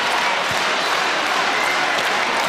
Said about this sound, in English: The crowd been loud all night. They've just gone to another level. The noise deafening inside Perth Arena.